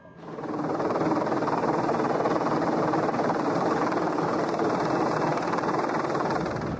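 A Pave Low military helicopter roars loud and close, its rotor and engine noise steady and continuous throughout.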